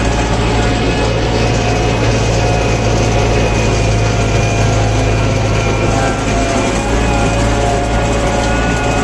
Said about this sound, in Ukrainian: Трактор досить важко йде, бо земля мокра